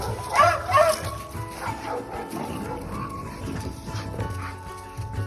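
Several dogs bark and yip close by in a kennel, with sharp barks clustered near the start and a whimper among them. Someone talks over the dogs.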